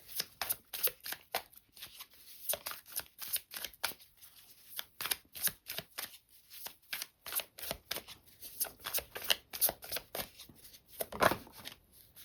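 Tarot cards shuffled in a steady run of crisp, close riffling bursts, rapid rhythmic flicks repeating for about twelve seconds with one louder thump near the end, no talking.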